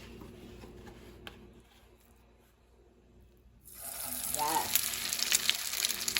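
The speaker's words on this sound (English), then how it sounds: "I decided we're gonna fry these crab cakes up" After a few seconds of near silence, crab cakes hit a hot pan and a steady, crackling sizzle starts up close and holds, with a faint voice briefly underneath.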